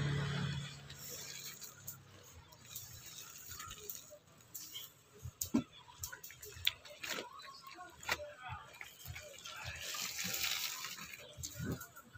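White laundry being washed by hand, water splashing and sloshing with wet cloth rubbing in irregular bursts nearby, while a person talks at times.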